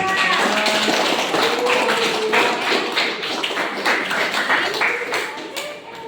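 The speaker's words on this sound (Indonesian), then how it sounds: "Tepuk tangan untuk kelompok 2" Classroom applause for the winning student group, many hands clapping steadily for several seconds, loud and close, with a few voices mixed in and the clapping easing off toward the end.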